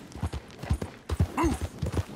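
Horse hooves clip-clop in Red Dead Redemption 2, with close, brisk, uneven hoofbeats over about two seconds and a short snort or whinny-like call in the middle.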